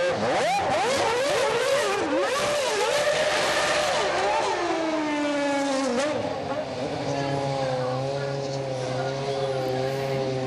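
A McLaren racing car blasts its engine at a Moscow city racing demonstration, with loud revving howls rising and falling, tire squeal, then settling into a steady idle drone, all close and loud.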